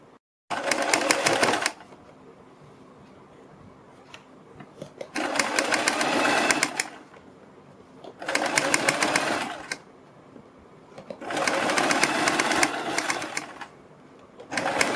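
A sewing machine stitches a strip onto a kurti neckline in four bursts of rapid whirring, each lasting a second or two, with quiet pauses between them.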